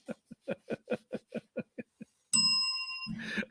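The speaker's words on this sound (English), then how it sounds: "I'll give you a bell for that." A bell rings once with a bright, sustained metallic tone. It follows a run of short, evenly spaced chuckle-like bursts and is left ringing alone, with a faint voice near the end.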